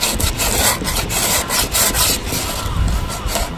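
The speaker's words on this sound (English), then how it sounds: "Just start smoothing it out." Someone sands Bondo filler on a custom center console, producing rhythmic, close scraping and rasping strokes in a steady back-and-forth pattern.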